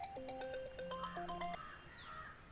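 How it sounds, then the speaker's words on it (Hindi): A mobile phone ringtone plays a quick, bright electronic melody of repeated beeping notes, fairly faint and steady, followed by a brief descending chirp, with no talking over it. "किसी का तो फोन आ रहा है।"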